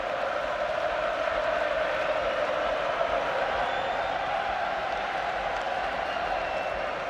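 A rugby crowd at Eden Park during a World Cup pool match between Australia and Ireland, a steady, dense stadium roar of cheering throughout, with a commentator talking over it.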